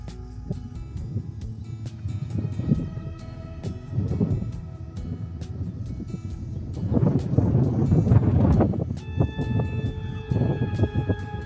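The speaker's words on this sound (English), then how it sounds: "It's obviously a little windy." Gusty wind buffets outdoors in low rumbling surges, swelling louder midway, with faint tonal hums in the background.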